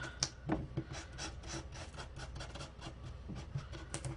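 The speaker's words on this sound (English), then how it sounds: "I'm just going to rub glue on the back of" A two-way glue pen rubbed across the back of a paper die cut over a scrap sheet, a quick series of soft close scratchy strokes, quiet and without talk.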